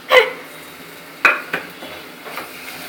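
A spoon stirs thick ground masala paste, stiff from the fridge, into a hot pan, giving three or four sharp metallic clanks spaced across a quiet background.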